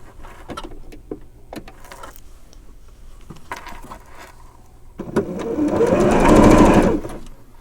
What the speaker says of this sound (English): towards the upper left-hand corner that I'm going to start stitching